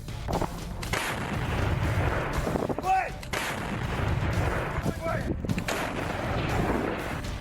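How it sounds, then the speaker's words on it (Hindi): Heavy booming blasts and rumbling roar from a Russian 2S7 Malka self-propelled heavy artillery gun fill the air, with a few distant whistling tones; loud, continuous, outdoor battlefield noise. "इस वीडियो में रूसी सेना 2S7 माल्का नाम की इस तोप का इस्तेमाल करती दिखाई दे रही है"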